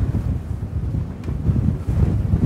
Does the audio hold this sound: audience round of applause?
no